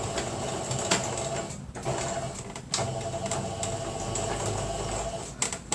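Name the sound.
sewing machine stitching a zipper closure on an ecobag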